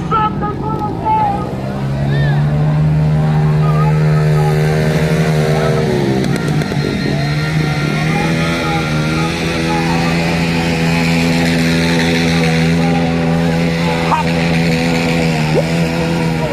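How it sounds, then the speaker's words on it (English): A car engine revs hard and holds high, surging and dropping in pitch, during a street gathering in Louisville, Kentucky, while tires are burned; loud and close throughout, with crowd voices mixed underneath. "burning tires is expensive"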